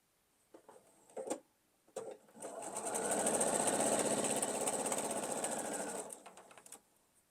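A sewing machine stitches quilt block pieces for a gravity quilt in one steady, loud run of several seconds, with a few brief clicks and handling knocks before and after.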